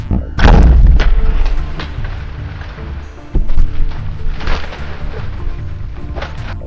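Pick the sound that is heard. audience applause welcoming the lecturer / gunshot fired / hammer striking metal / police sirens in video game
gunshot fired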